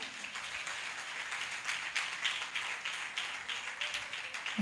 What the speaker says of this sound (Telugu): ఒకసారి వీడు గట్టిగా చప్పట్లు కొడదాం మనం